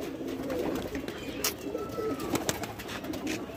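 Breeder pigeons in Jammu coo softly and continuously at close range, with a few brief flutters and clicks mixed in, and no talking.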